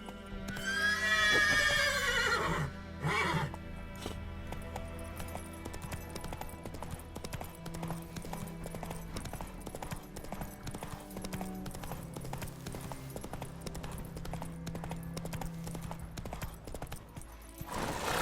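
Roach the horse in The Witcher 3 whinnies loudly, then gallops steadily with rhythmic hoofbeats under music.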